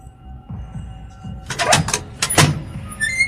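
Bedroom door creaking in a horror audio drama, a few close, scraping creaks and groans rising over a low hum, with faint thumps before them.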